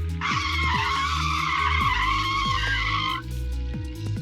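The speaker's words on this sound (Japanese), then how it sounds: "大きなブレーキ音がした" A car's brakes screech in a long, loud tire squeal for about three seconds over a low rumble, then cut off abruptly, used as a sound effect in a narrated Japanese mystery novel.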